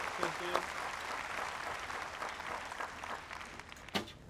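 Audience applause ripples through the crowd at a women's recurve archery quarterfinal, a steady patter of clapping lasting several seconds that swells briefly near the start and again toward the end, with a commentator's voice faintly underneath.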